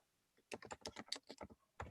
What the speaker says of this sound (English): You guys hear me typing?